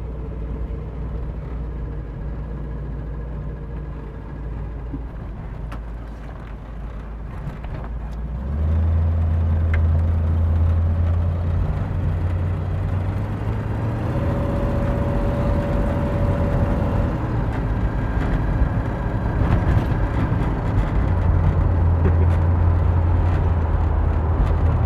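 A 1955 Ford Country Squire station wagon drives along with a low, rumbling engine and exhaust note that swells as it pulls away and stays loud. Steady road and mechanical noise sit underneath, and no one speaks.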